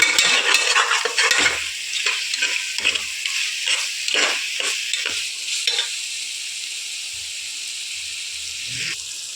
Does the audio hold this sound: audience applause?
no